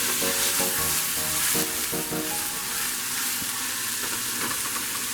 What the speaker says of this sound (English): Then we're gonna add our garlic.